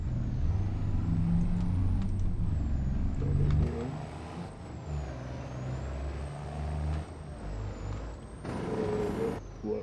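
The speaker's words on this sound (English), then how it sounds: "we're gonna go get this truck unloaded" A truck in Farming Simulator 25 releases a loud, close hiss of its air brakes over a low engine rumble, then idles more quietly before the engine revs again near the end.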